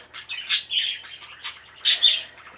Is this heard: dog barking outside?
no